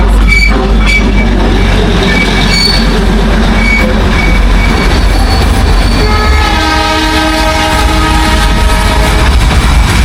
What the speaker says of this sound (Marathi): ये है टॉय ट्रेन और इसमें 3 डब्बे हैं और पीछे 3 बोगी है